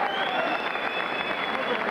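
A big sellout boxing crowd applauds Ricky Hatton after his bout with Justin Rowsell, a dense, loud, unbroken wall of clapping and cheering with a commentator's voice faintly over it.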